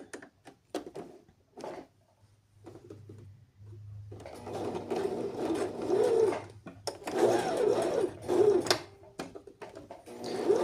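Sewing machine stitching around the waistband of a pair of trousers, sounding in brief early whirs and then in longer runs of buzzing, rattling stitching, with pigeons cooing in the background.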